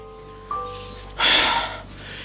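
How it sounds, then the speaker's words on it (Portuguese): A single sharp, breathy cough bursts out close by, short and forceful, after a faint quieter sound and against a low background hum. "Cara, eu odeio quando eu começo a tossir assim,"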